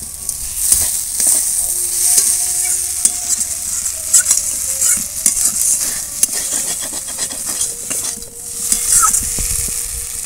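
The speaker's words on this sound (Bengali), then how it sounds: "মাছগুলো হালকা হাতে একটু আলুর সঙ্গে কষিয়ে নেব।" Fried river fish stirred gently with potatoes and mustard paste in a pan for a Bengali curry, with constant close sizzling, frequent spatula scrapes and clinks against the pan, and a faint steady hum underneath.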